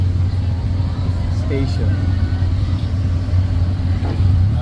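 A tuk-tuk rides through evening traffic in Bangkok, its engine rumbling loud and steady up close, with road noise around and a person speaking briefly over it.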